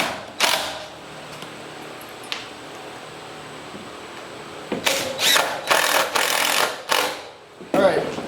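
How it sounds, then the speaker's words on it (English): An Allen wrench cranks a table saw's height mechanism. After an early click, a run of close, creaking, ratcheting strokes follows in quick repeated bursts. "you take an Allen wrench and you crank on these things and raise these up and down"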